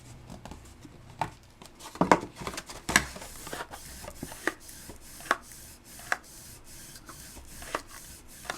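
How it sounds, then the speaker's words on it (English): Big spatula pressing down glued paper tabs on the sides of a handmade tea caddy box, a string of short scraping taps and rubs, close and irregular, with no talking. "we'll go back with that big old spatula and just get everything nice and stuck"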